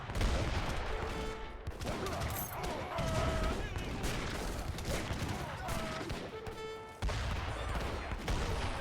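Dense, continuous gunfire from a crossfire in a strategy battle game, with volleys of musket-like shots rolling over one another alongside scattered explosions and battle noise for the whole stretch.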